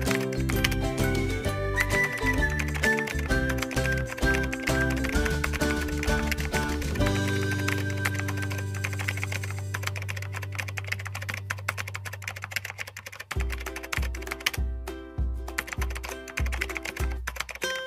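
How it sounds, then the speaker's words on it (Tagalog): Fast, continuous clicking of typing on a computer keyboard while entering text in Microsoft Excel, close and clear over a steady musical backing. "So, pwede na tayong mag-type."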